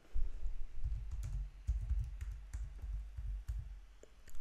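Laptop keyboard keys clicked repeatedly in a quick, uneven run, including presses of the Enter key, with close, crisp taps and no talking.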